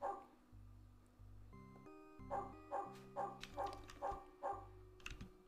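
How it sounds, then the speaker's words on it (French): A dog in the old point-and-click adventure Shadow of the Comet gives a run of about six rhythmic, evenly spaced barks at the manor, heard over low synthesized game music after a brief tonal chime. "Salut le chien, ça va?"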